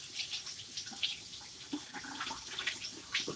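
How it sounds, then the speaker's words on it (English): Tap water runs into a sink while hands are washed, a soft steady splashing with scattered brighter splashes and drips, fairly close and unaccompanied by talk. "I'm going to wash my hands."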